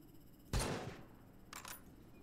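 Gunfire in the video game Dysmantle: one loud close burst, then a shorter, fainter second burst about a second later, with quiet in between.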